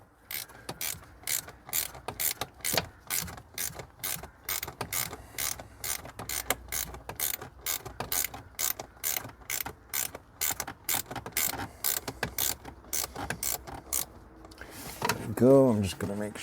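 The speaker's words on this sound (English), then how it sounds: "I'll get my little closed end ratchet on there." A small closed-end ratchet snugs the blower resistor module on a Jeep Liberty KJ, giving rapid, close, crisp clicks in a long steady run, then a brief creak at the end.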